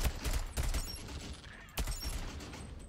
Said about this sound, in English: we're just going to have to shoot those guys